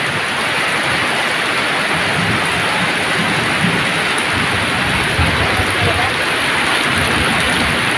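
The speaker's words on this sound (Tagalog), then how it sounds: "Patuloy ang ulan mga kautol." Heavy, steady rain pours down continuously in Valenzuela, Philippines, a dense hiss with drops pattering on surfaces throughout.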